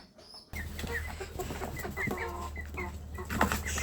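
Several naked-neck chickens cluck and call close by over a low steady hum, with short overlapping clucks throughout.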